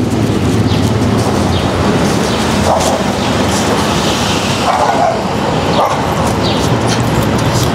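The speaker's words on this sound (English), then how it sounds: "Those little dogs are pretty feisty." Several small dogs bark in quick yips amid the steady roar of a Manhattan street, loud and continuous with no one speaking.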